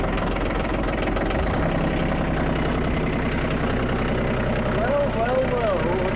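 Kubota diesel engine running on summer diesel fuel in freezing weather, idling just after a cold start with a steady low, knocking chug throughout, close and loud, with faint talk briefly underneath.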